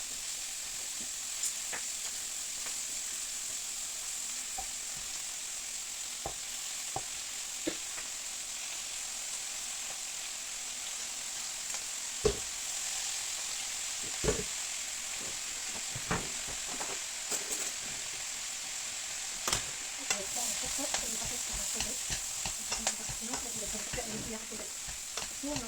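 Noodles with beef and shrimp stir-frying in a wok: a steady quiet sizzle and hiss runs throughout, broken by scattered clicks and scrapes of stirring that grow busier toward the end, with no talking.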